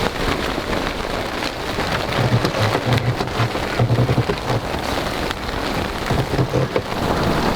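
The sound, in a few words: heavy rain pouring down in a squall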